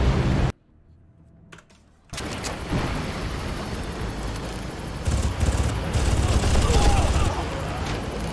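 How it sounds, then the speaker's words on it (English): Gunfire aimed at the player in the video game Far Cry 1, dense crackling bursts of shots that start abruptly after a brief silence and keep rattling loud and close, with a voice speaking partway through. "Oh god, he's shooting at me."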